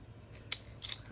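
A couple of brief, crisp metallic snips from not-very-sharp scissors cutting paper, close and quiet, with a faint rustle between them.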